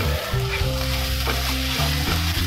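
Chopped tomatoes sizzle and fry in a chicken vindaloo masala, a steady close crackle with faint stirring scrapes and no talking.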